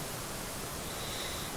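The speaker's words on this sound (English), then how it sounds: "You can hear the waterfall in the background," A waterfall beside a mountain lake campsite fills the background with a steady, even broadband rush, continuous and unbroken throughout, with no voices.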